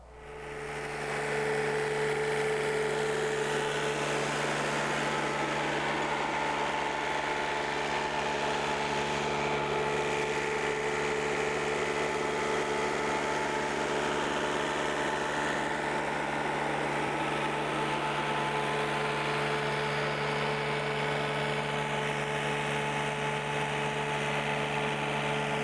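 An Alamo TRAXX RF forestry machine working in and out of trees: a steady, moderately loud engine drone with a constant tonal hum that holds evenly throughout, with no speech.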